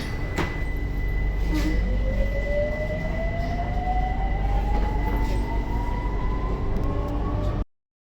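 A Bangkok metro train departs and accelerates, its motor whine rising steadily in pitch over rumbling wheels, close and continuous with no voices.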